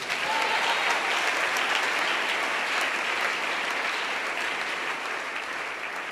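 A church congregation applauding to acclaim Jesus during a service, a dense, steady roar of many hands clapping for several seconds without a break, loud and filling the room.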